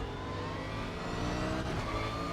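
A Bentley race car engine drones steadily in the RaceRoom racing game, a continuous mid-pitched hum at moderate level with a slight rise in revs midway.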